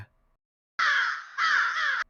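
A crow caws twice in quick succession, loud and close, each call harsh and raspy, following a brief near-silence.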